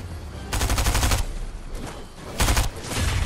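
Gunfire in a battle royale video game: two loud bursts of rapid automatic shots, one lasting nearly a second and a shorter one later, with quieter scattered shots and game noise between them.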